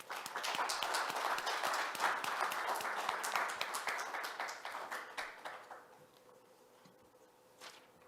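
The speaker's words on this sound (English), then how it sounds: "Please welcome Deputy Director General Maria Helena Semedo with a big round of" A conference audience gives applause for opening remarks at the launch of a forest risk management initiative, a dense burst of clapping that fills the room for about five seconds and then fades to scattered claps.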